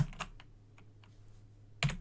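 Keys clack on a computer keyboard while code is being written, a few quick taps near the start, sparse single presses in between, then a louder burst at the end; no talking.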